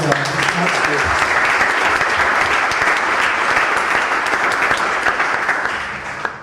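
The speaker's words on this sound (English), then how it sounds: "I want you to give like a huge round of applause for Arnaud, who organized everything" Applause from a meetup audience, a steady dense wash of many hands clapping at full strength throughout, fading only slightly at the very end.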